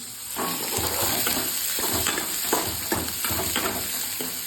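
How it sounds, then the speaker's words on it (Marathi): Onion frying in a pan at home, a close, continuous sizzle with repeated scraping strokes as it is stirred, in a roughly even rhythm, with no talk. "त्याला चांगला कांदा परतू द्यायचा आहे"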